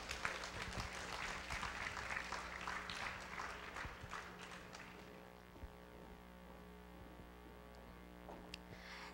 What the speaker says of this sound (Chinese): 让我们以最热烈的掌声欢迎亚洲大学资传系陈文茜陈教授以及林佳琪林董事